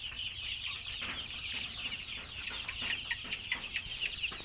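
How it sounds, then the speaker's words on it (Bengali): Sonali chickens cluck and chatter steadily in a poultry shed, a dense flock heard fairly close and continuous with no talk. "সোনালী মুরগি এটা।"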